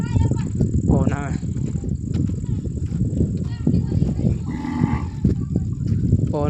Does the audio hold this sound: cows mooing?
yes